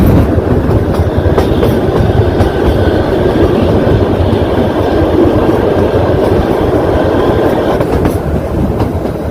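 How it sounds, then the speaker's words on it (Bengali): Kalka–Shimla toy train rolling along its narrow-gauge rails at a fair speed, a steady loud rumble with continuous clickety-clack of wheels, heard from on board a general-class carriage with no talking. "ট্রেনটা মোটামুটি ভালো স্পিডে যায়"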